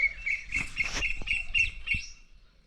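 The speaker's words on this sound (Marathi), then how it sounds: "पक्ष्यांचा चिवचिवाट चालू आहे या झाडावर" Small birds in a tree chirp and twitter in quick, busy bursts in the morning, fairly close, with overlapping calls and brief squawks.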